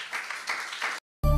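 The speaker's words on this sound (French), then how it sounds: "Nous applaudissons le Seigneur." Church congregation applauding during a French-language sermon, a broadband patter lasting about a second before a brief silence, then loud music cuts in.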